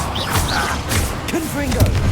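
An Expelliarmus spell cast in the video game Hogwarts Legacy lands as a loud magical whoosh and thump amid combat effects and booming impacts, with voices talking over it.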